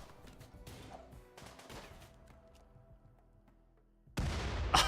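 Rimworld combat: bursts of gunfire crackle and thump early on, the noise fades to a quieter lull, then a loud grenade explosion erupts near the end.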